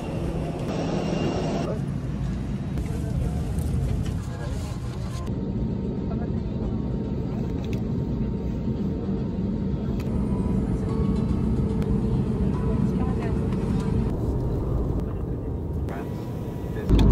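A steady, loud airliner cabin rumble from the engines fills the whole stretch on a flight to Madrid, with faint voices underneath.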